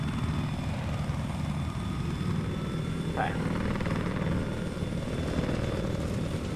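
A helicopter engine in a video game drones steadily for several seconds with a continuous whirring rumble; a player says a brief word over it.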